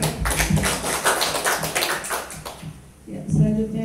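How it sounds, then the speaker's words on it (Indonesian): An audience at an Indonesian community event claps in a burst of separate, uneven hand claps that thins out near the end, when a voice briefly comes in. "Kasih tepuk tangan buat Bapak juga."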